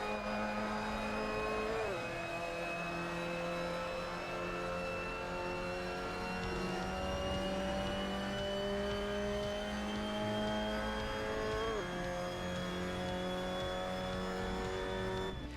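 A Mazda MX-5 Cup car laps the Lausitzring in the Assetto Corsa racing game, its engine holding a steady loud drone while rising through the revs, with two brief gear-change dips and faint tire noise, and no voices.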